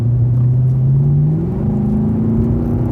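Mercedes-AMG CLK Black Series V8 rumbles steadily while driving, a loud, close, deep engine drone that rises slightly in pitch as it pulls, with no talking over it.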